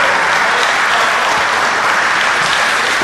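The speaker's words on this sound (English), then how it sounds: "And this crowd's acknowledging him." Wrestling arena crowd applauding a departing champion, a dense, steady roar of clapping filling the whole stretch with no talk on top.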